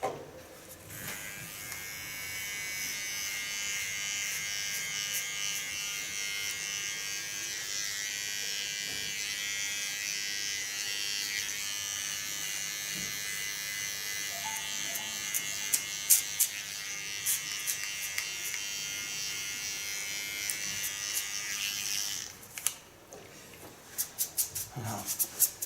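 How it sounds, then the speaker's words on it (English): A small electric hair clipper buzzes steadily and close during a short nape-shave haircut, running continuously for over twenty seconds with brief knocks and clicks near the end as it is set down. "And then I take my small clipper."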